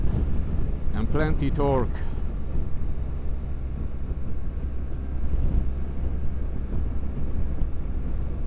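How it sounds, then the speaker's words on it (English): Steady, loud wind roar buffeting a BMW R 1300 GS motorcycle on the move, continuous throughout, with someone talking briefly near the start. "it's very windy"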